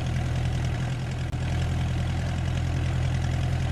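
A de Havilland Chipmunk's piston engine idling with the throttle pulled right back, a loud, steady low drone with a constant throb, briefly dipping for an instant before resuming evenly.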